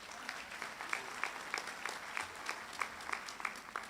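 Audience at a college graduation ceremony giving a round of applause for the staff, a soft, distant patter of many hands with sharper individual claps standing out at an uneven rhythm.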